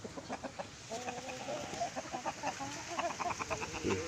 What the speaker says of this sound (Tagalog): Para maipakita ko sa inyo ng malapitan yung mga alaga kong heritage chicken.